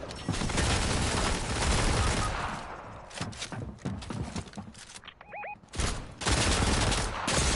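Fortnite gunfire erupts in loud rapid bursts of automatic shots, breaks off briefly around a short bright electronic tone, then resumes as heavy continuous fire.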